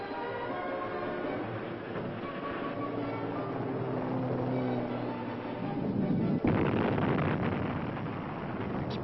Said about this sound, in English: Explosions rocked the canyon almost daily for 2 years